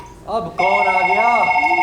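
A telephone bell rings during a stage play, a sustained bright ringing that starts after a brief first burst and continues steadily, loud and close without talk.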